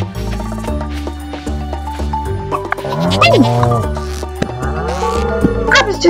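A goat bleats on a farm in Stardew Valley, its wavering cries sitting over background game music, loud and close, across a few seconds with no talking.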